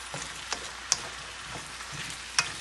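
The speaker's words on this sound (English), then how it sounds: "So as I said, it's just a quick saute." Okra sizzling and frying in a pan during a quick sauté, a steady crackle with a few sharp spatula clicks and stirring scrapes, close up and without talk.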